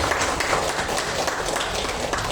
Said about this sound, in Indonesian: Mari kita tepuk tangan untuk Bapak Ibu sekalian